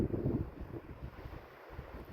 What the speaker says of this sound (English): It's quite windy. I'm sure you can tell.